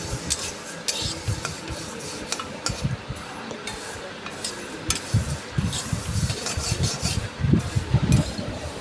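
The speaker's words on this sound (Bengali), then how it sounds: "এদিকে সিমুইটা ভাজছে ভালো করে।" Vermicelli frying in a pan for a sweet milk dessert, giving a steady soft sizzle with frequent scraping and stirring rubs of a utensil against the pan, close and continuous with no talk.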